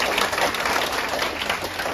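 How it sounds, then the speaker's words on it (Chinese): Audience at a Taipei business recruitment seminar applauds steadily, a dense, even wash of many hands clapping at close range for the full stretch with no talk over it. "掌声鼓励一下"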